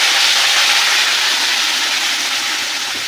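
Masala spice powders of coriander and turmeric hit hot oil in a pan for a dhaba-style egg curry, giving a loud, steady, close sizzling hiss that fades slightly over a few seconds, with no talk.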